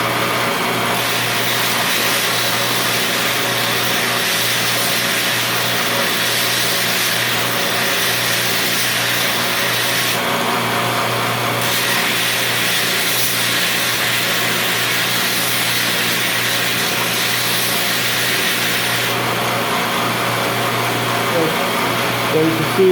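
Power tool radiusing the corners of a root-side weld bend test coupon, a steady continuous whine with a grinding edge running throughout at close range, loud and unbroken for the whole stretch.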